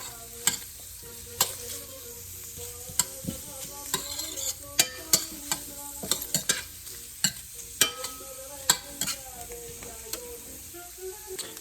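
Mushrooms and rosemary cooking in butter give a steady close sizzle, broken by frequent sharp scrapes and clacks of stirring in the pan.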